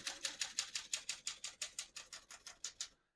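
Keys strike on a 1937 Corona Standard portable typewriter in a steady rapid rhythm of about fifteen crisp metallic clacks, close and clear, ending abruptly with no talking.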